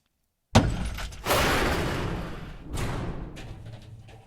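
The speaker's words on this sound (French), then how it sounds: "Une première explosion avec des bruits de tôle." An off-screen explosion sound effect for a series mix: a sudden sharp blast followed by a long rumbling wash with clattering sheet-metal debris, then a second surge of rattling metal.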